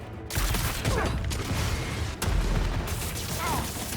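Enemy gunfire erupts in Marvel's Spider-Man 2, a dense, continuous roar of shots and booms with two brief drops, loud and close, with shouted voices over the combat.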